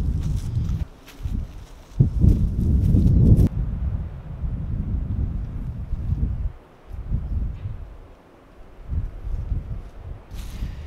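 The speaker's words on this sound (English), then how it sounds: "It's extremely windy out" Strong gusty wind buffets the microphone outdoors on a farm while fencing is being put up, with loud roaring surges and lulls plus faint rustling and shuffling movement.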